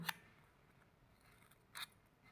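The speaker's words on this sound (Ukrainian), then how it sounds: "З однієї сторони ми робимо ножицями ось такі надрізи" Scissors snip into paper in a quiet room, two crisp short cuts about a second and a half apart, faint and close.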